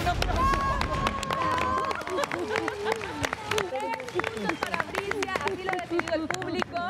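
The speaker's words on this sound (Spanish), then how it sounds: "¡Un aplauso!" Studio audience on a Spanish-language weekend TV variety show breaks into loud applause and cheering after a third-place announcement, dense clapping mixed with crowd noise and music, gradually thinning while voices carry over it.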